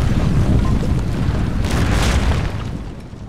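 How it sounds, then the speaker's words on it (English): Heavy booming cannon blasts in the video game Empire: Total War rumble continuously during a siege, loud and deep, with a brief burst near the middle before the roar slowly fades. "My cannons are doing damage"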